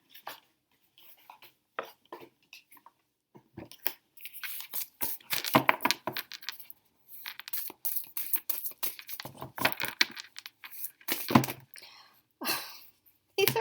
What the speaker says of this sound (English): These are very hard to shuffle.